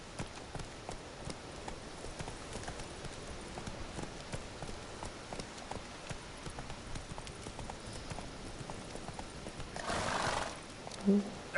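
Roach the horse in The Witcher 3 gallops with steady clip-clop hoofbeats throughout, then lets out a short neigh near the end, with game ambience underneath.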